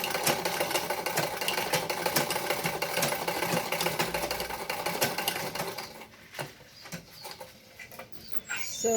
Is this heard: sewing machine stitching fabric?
yes